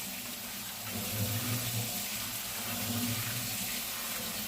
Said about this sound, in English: I'm gonna rinse these off